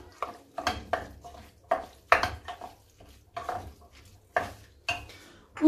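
Chicken and calamari stirred in a paella pan, a series of irregular metallic scrapes and clinks from a utensil against the pan, close and moderately soft with faint sizzling between strokes.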